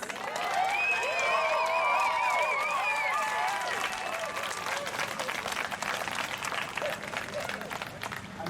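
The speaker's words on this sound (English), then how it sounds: "Let's cheer for this wonderful, amazing princess." Crowd at a trans pride march in Melbourne cheering and applauding loudly and steadily, with whoops and shouting voices over dense clapping throughout.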